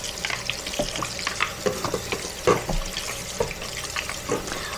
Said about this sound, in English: Just a quick rinse.